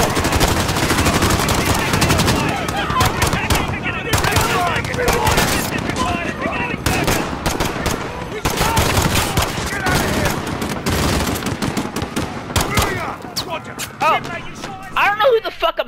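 Gunfire in the video game Modern Warfare: dense, loud, near-continuous bursts of automatic fire and sharp reports with heavy rumble, mixed with people talking over the battle.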